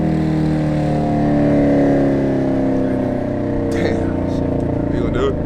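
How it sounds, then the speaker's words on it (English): A supercharged Chevrolet Camaro ZL1 with aftermarket headers drones loudly and continuously close by through a downshift, with its engine note shifting pitch while people talk over it. "Listen to the downshift."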